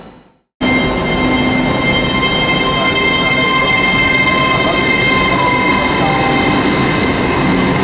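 Class 802 trains depart Bristol Parkway station with a sudden, loud, steady roar that begins after a brief quiet start, rumbling close by with faint squealing tones and no pause.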